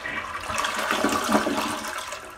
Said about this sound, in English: and I'll show you how I can just flush the toilet